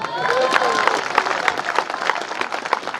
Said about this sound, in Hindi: आप तालियां बजाइए।